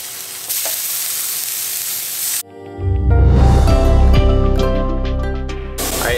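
Inch-wide fish strips for tacos drop into a hot pan and burst into loud, close sizzling and spattering that holds steady, after a quieter hiss of the heated pan.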